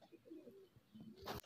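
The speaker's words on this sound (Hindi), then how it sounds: "तो ये भाई गोल्डन कबूतर है तेज लाल आँख वाइट नोक का" A golden pigeon with bright red eyes and a white-tipped beak gives a soft, faint coo, a short low warbling call that ends in a brief rustle.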